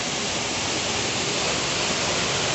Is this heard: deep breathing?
no